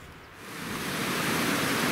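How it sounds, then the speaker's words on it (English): A waterfall near a mine entrance on the road from Anchorage to Fairbanks, Alaska, makes a steady broadband rush that swells slightly and then holds, continuous and close. "It's a beautiful waterfall."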